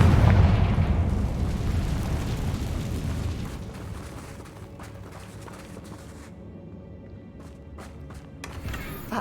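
A Confringo fire-blast spell in Hogwarts Legacy detonates in a heavy, booming burst at the start, its rumble slowly decaying with a few sharp crackles near the end.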